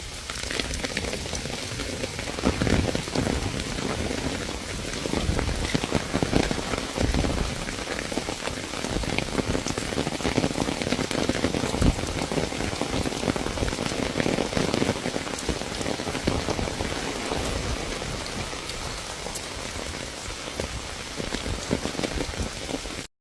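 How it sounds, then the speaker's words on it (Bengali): Heavy rain pours down steadily in the Sundarbans forest, a dense, even patter of drops on surfaces that stays constant throughout, with no voices. "বৃষ্টির শব্দটা খুবই সুন্দর একটা আওয়াজ"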